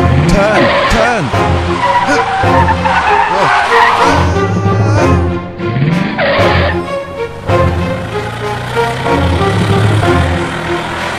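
A car in a stop-motion film brakes hard and skids. Loud tire squeals and sliding screeches rise and fall over a revving engine, and voices come in between.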